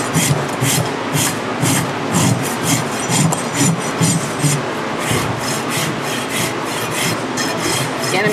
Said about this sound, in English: I'm using the fine side of the rasp to smooth it out.